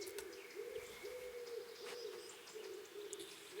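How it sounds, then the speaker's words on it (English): Wood pigeon cooing in the video game Kingdom Come Deliverance, a soft repeated hooting call heard at a distance, several coos in a slow rhythm over faint outdoor ambience. "there's a distant bird noise that is like a childhood noise for me. Wood pigeon or something."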